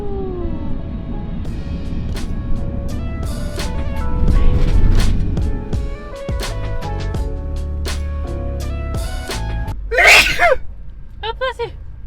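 A single sharp sneeze bursts out near the end, following a stretch of van road and engine noise with a few clicks and rattles, on a mountain road in Senja, Norway.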